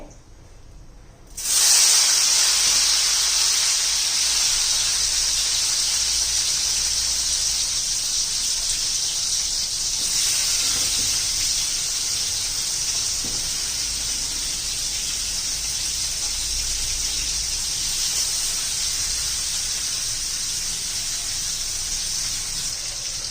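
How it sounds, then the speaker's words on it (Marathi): Salted, squeezed bitter gourd (karela) drops into hot oil in a kadhai and sets off a sudden loud, steady hiss and sizzle that keeps going for over twenty seconds with no talking. "आता आपण हे कढईमध्ये घालून घेऊ तेलामध्ये"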